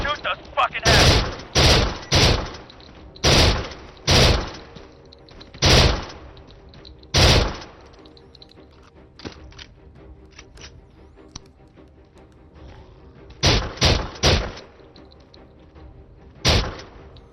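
Gunfire in the PS4 VR game Survive: loud, sharp bursts of shots in clusters with short gaps, some single cracks, a long lull in the middle, then more rapid shots near the end.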